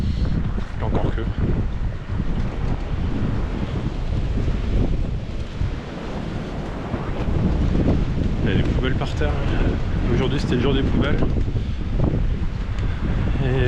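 Strong wind in a Quebec snowstorm roars and buffets the microphone in a loud, continuous gusting rush, while a person talks over it throughout.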